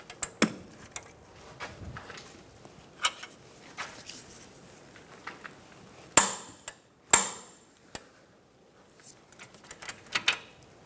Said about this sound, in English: Using a 16mm wrench on the back, I'm going to hold this still while I torque this to 80 foot-pounds